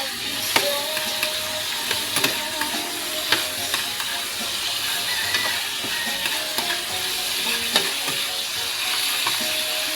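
Mussels tip into a hot frying pan and set off a loud, continuous sizzle, with sharp clicks and clacks of shells and utensil knocking against the metal. No voices are heard.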